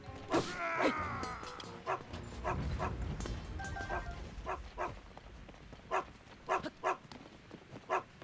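A video game dog yips and barks in short sharp bursts, a few rapid calls early and then evenly spaced single barks, fairly faint against a soft background.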